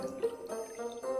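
Hard liquor poured from a bottle into a glass, a quiet, continuous trickling pour with soft gurgling pulses, close and alone with no talk.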